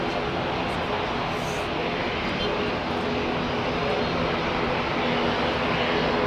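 A propeller aircraft taxiing at Heathrow Airport in the evening makes a steady, continuous engine drone at moderate distance that holds an even level the whole time.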